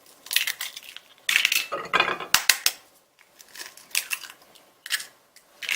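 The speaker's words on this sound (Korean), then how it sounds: "계란 깨서 준비를 합니다" Six eggs being cracked one after another to prepare a Japanese rolled omelette for a cooking certification dish: close, sharp cracks and crunchy shell taps in irregular bursts, with quiet gaps between them and no speech.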